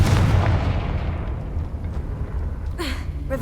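A Confringo fire spell in Hogwarts Legacy bursts as a deep booming explosion at the start, then a rumbling fiery tail fades over several seconds, ending with a short bright game chime.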